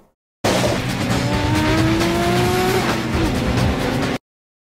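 A twin-turbo car engine with an equal-length front pipe roars at high revs on a street, pitch climbing through gears with a brief dip, loud and close, then cuts off abruptly.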